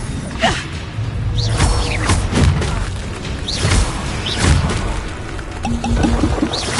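Magical spell blasts boom and whoosh in Hogwarts Legacy, with a crashing, shattering burst as a window breaks amid repeated loud impacts and swooshes.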